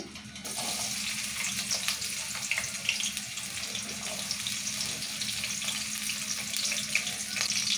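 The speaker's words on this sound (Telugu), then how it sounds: "ఉల్లిగడ్డ వేద్దాము. నూనె కాగింది." Onions dropped into hot oil for a Telugu-style masala brinjal curry hiss and fry with a steady, dense crackle, close and continuous, with no voices.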